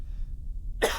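A single short, harsh cough bursts out near the end after a quiet moment with a faint low hum.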